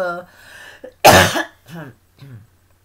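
A woman coughs in a single sharp, loud burst at close range, with short voiced sounds and breaths before and after it.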